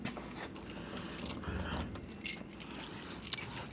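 A bunch of keys jangles in a lock, giving light metallic clinks and rattles close by, fairly quiet, with a sharper burst of jingling near the middle and again toward the end.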